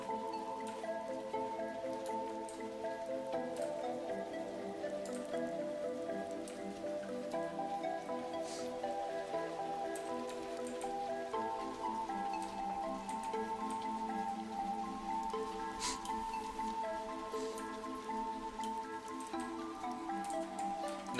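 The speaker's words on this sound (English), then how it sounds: "And then he put like a rainstorm sounds over top of it." Soft rainstorm patter mixes with moody, sustained tonal music, a faint, steady wash of falling rain laid evenly over the held notes throughout.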